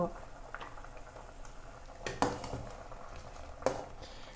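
Papaya sour curry simmering in a pot on the stove: a soft, steady low bubbling and hiss, with two sharper utensil clinks against the pot partway through.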